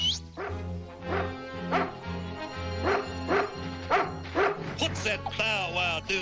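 Small dog giving several short yips and bow-wow barks in a steady rhythm in a village scene from the 1987 animated film G.I. Joe: The Movie, heard under spoken dialogue with a musical score underneath.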